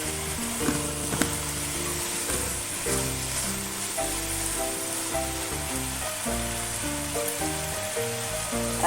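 Turmeric and chilli powder sizzle in a pan as they are stirred in for a Bengali flat bean (sim) bharta, making a continuous close crackle with occasional spoon scrapes and no voices.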